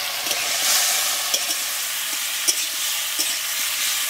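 Curry leaves dropped into hot oil, frying with a continuous even hiss and a few faint clicks of stirring, heard alone at close range.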